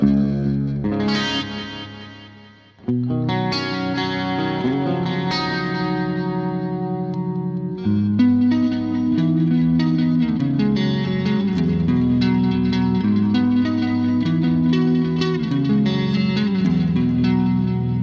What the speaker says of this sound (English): really reverby delays whilst keeping your clean tone as well